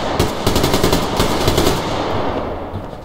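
Rapid automatic AK rifle fire in the video game Survarium, a loud burst of closely spaced shots rattling for over a second, then fading into a noisy echoing tail.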